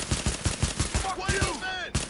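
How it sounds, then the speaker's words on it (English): Rapid bursts of light machine gun fire from The Division, a steady rhythmic stream of loud shots for most of the clip, with faint radio-like tonal sweeps in the background near the end. "Light machine gun."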